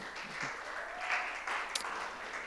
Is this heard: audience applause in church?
yes